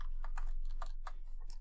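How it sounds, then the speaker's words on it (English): Rapid keystrokes on a computer keyboard, a brisk irregular run of close, crisp clicks with brief gaps, typed alone without talk during a cyber security database exercise. "I'm just typing"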